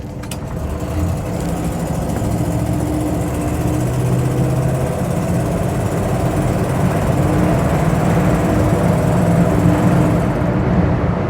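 A 1955 Lincoln Capri, an American classic car, on the road with a steady low engine drone and cabin rumble held at a constant level throughout, no voices.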